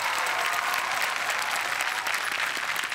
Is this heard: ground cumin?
no